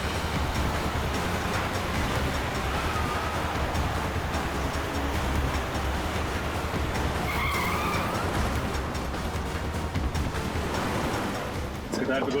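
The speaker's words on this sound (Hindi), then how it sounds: "इस तरह से गाड़ी चला रहा है, कहीं किसी को नुकसान ना पहुंचा दे।" A recklessly driven car skids along the road with sustained roaring engine and tire noise under a dramatic scene, punctuated by a brief squeal midway and a sharp hit near the end.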